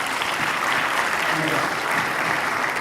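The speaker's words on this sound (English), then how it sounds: "Give her a big round of applause" Sustained applause from a crowd, steady and fairly loud, with dense clapping that holds evenly from start to finish.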